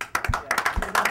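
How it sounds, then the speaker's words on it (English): A comedy club audience at a stand-up show bursts into brief scattered clapping, several sharp close claps over about a second, with a short laugh or voice underneath. "Clap if you played Risk."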